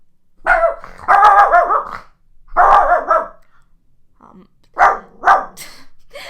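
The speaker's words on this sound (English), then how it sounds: "Not my dog with the dramatic effects." A dog barks loudly and close in several bursts, some bark clusters running together with growly tones, separated by short quiet gaps.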